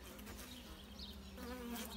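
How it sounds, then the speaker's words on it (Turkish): Native honeybees buzz steadily at their hive on a mild day, a soft continuous hum with no voices. "Arı da çalışıyor."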